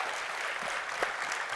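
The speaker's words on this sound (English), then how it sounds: "Another round of applause, please, for Matthew Griffin" Applause fills a conference hall for a healthcare futurist speaker, a soft, steady wash of clapping heard at a distance without voices.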